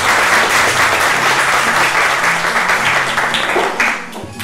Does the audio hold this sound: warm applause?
yes